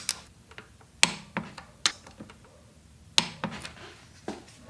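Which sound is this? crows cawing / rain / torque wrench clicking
torque wrench clicking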